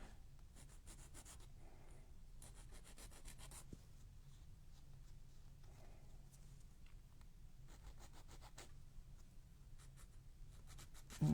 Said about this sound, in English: I'm going to go ahead and sand them down.